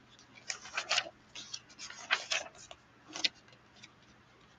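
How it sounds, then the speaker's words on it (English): Paper rustling and crinkling during crafting, a series of soft, close, brief scratchy bursts with short pauses between. "I like the sound of paper."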